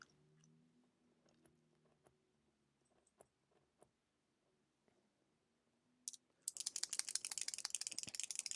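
Someone chews food close to the microphone: a few sparse, faint clicks first, then a sudden dense burst of loud crunching that continues to the end.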